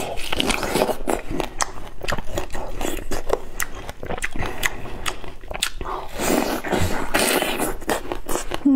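Close, crisp bites and wet crunchy chewing of ripe, deep-yellow starfruit at an eating show, a steady run of crackling mouth sounds without speech.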